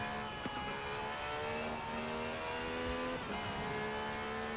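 A loud, close 1,000-horsepower race car engine in Forza Horizon 4 drones at high revs, its pitch stepping through gear changes, heard alone without talking.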